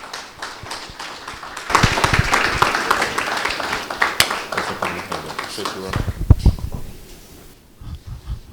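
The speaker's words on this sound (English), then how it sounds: "give Tunde Onakoya a round of applause as he makes his way into the room" An audience bursts into sustained applause as a guest enters the room, with dense clapping that swells and then thins out, and speech mixed in underneath.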